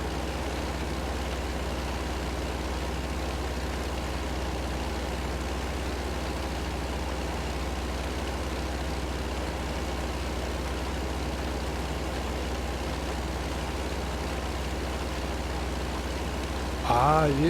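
A Kenworth truck engine in American Truck Simulator idles as a steady, low, continuous drone, moderately quiet and unchanging throughout, with a short voice-like sound right at the end.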